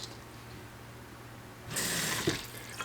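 Water from a kitchen tap suddenly gushes into a cat's food dish, a loud splashing rush lasting about a second before easing, preceded by a quiet indoor hum and brief clicks.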